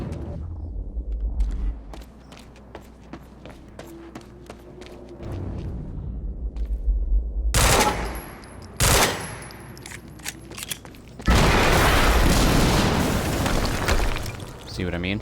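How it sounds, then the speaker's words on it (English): Explosions and gunfire in the Quantum Break video game: scattered sharp cracks, then sudden heavy booming blasts and a long stretch of loud, dense rapid fire that drowns out everything else. "HQ, we just heard an explosion near the harvesting perimeter."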